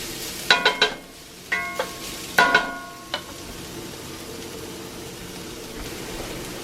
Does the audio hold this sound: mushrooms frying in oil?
yes